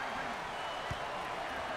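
Crowd in a basketball arena roaring after a three-pointer, a dense, steady wall of cheering under an excited commentator's voice.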